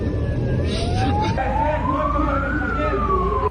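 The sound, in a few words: ambulance siren driving along an avenue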